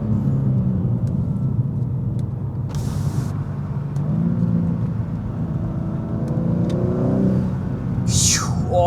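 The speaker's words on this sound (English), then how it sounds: "Oh, you can hear the turbos." BMW M car accelerating hard: a steady engine rumble with a rising, strained pitch as it pulls, and short airy turbo whooshes near the start and again at the end.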